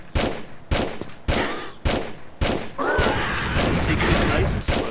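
A revolver fires in the video game Tomb Raider II: loud, evenly spaced shots roughly every half second, with talk over the later part.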